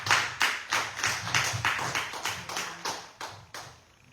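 A church congregation claps in steady, rhythmic bursts of applause, fairly close and loud, with no talking.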